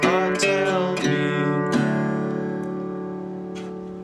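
Acoustic guitar picking out a blues melody on individual strings, a few distinct plucked notes ringing on and slowly decaying, close and clear with no talk.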